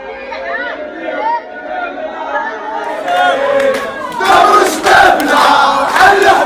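Crowd of AS FAR football fans gathered near the stadium, a lively chatter of many voices that swells louder partway through with shouts and cheers close by.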